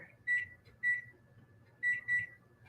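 An oven's digital timer chirps as its buttons are pressed, four short clear electronic beeps in two pairs, close by over a faint background hum, with no talk.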